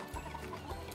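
A few soft, short clucks come from laying hens in a small coop, fairly quiet and brief against low background noise.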